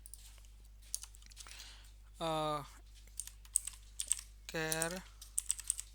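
Code is typed on a computer keyboard during a Salesforce LWC JavaScript string-methods lesson, with quick, irregular clicking keystrokes close by, broken by two short spoken phrases.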